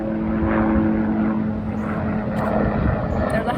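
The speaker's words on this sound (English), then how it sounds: "There's a helicopter now." A steady droning helicopter engine hums overhead at a moderate distance, heard from a garden, with a faint voice in the background.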